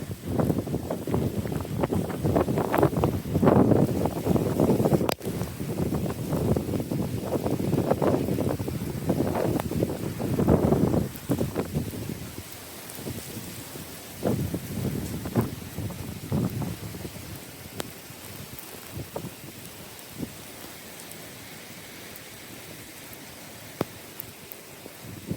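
Hurricane Milton's wind and rain batter Orlando, Florida, with gusts around 23 miles an hour: a loud, continuous roaring rush that surges and fades, easing to a lighter steady hiss later on.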